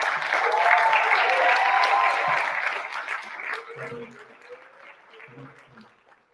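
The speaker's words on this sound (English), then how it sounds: "Please give another warm round of applause to Harry Jock," Audience applause for a guest speaker at a community gathering, loud and dense for about three seconds, then thinning into scattered claps as a voice begins talking over the fading clapping.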